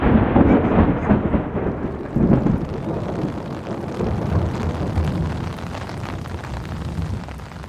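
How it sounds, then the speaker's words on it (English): A thunderstorm at Grand Teton National Park in Wyoming, with heavy thunder rolling and rumbling loudly near the start, then a steady wash of rain hissing on through the rest, with no voices. "on the last day we were here, we got storms."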